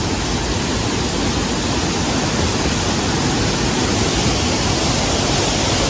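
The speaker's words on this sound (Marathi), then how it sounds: "हाय डेंजरस वॉटरफॉल आहे" A dangerous waterfall near Katta village in the Konkan region roars as a loud, steady, unbroken rush of falling water filling the whole scene.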